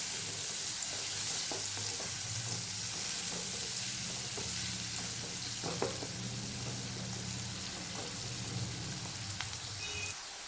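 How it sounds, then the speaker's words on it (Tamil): Onions and cumin seeds fry in oil in a pan, giving a continuous close sizzle with scattered crackles and occasional stirring scrapes, steady throughout with no talk. "இதுலேயே வெங்காயம் இந்த வெங்காயம் சேர்த்து வெங்காயம் நல்லா வதங்கி வரணும்"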